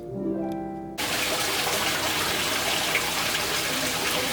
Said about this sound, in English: just about everywhere you turn, there's another waterfall